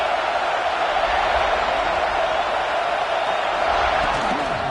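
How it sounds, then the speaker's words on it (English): A football stadium crowd keeps up a steady, loud roar of massed voices that fills the whole stretch without letting up. "This crowd ready to make its presence known."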